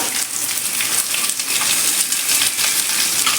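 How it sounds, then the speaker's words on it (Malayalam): Shallots, small onions rather than big ones, hit a hot pan for a Kerala-style curry and set off a dense, steady sizzle that holds at the same level throughout, close and loud with no voices. "അതിലേക്ക് നമുക്ക് ഈ ഉള്ളി ചേർക്കാം"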